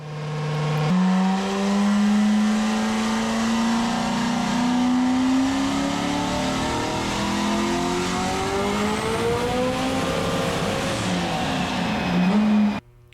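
A drag race car with an 1800+ HP Gen 1 Coyote engine roars loudly on a pass, pitch climbing steadily through the gears as it accelerates hard, then cuts off abruptly at the end.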